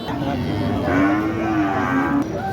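A cow lets out a loud, drawn-out moo close by at a rural cattle market in Natore, Bangladesh, the call rising and sliding in pitch over a busy background.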